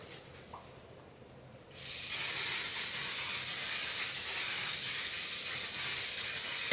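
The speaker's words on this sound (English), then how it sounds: "And then I'm gonna use some setting spray." A sudden, steady aerosol hiss of makeup setting spray starts after a quiet moment and continues loudly and evenly until the end, with no voices.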